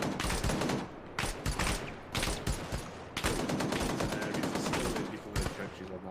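Rapid bursts of automatic gunfire and rifle volleys crack through a firefight in the military shooter ArmA, shots aimed at enemies in trenches, dense and loud with brief gaps between strings of rounds.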